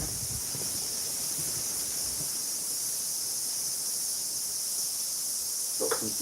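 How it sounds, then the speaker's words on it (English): A steady high-pitched insect drone, like cicadas, fills the outdoor air continuously, with faint rustling and a brief soft knock near the end. "Got some cicada sounds going on."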